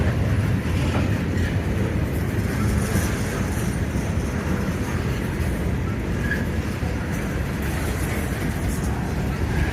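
Freight cars, including coal, tank and lumber cars, roll past in a steady, heavy rumble with faint clanking, a continuous low roar that holds from start to finish.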